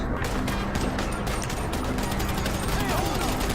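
Rapid bursts of automatic gunfire crackle during a heist shootout in GTA 5 Online, a dense, continuous volley from the video game, moderately loud and steady throughout.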